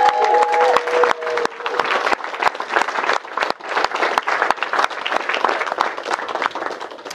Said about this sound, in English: I think a round of applause for Rachel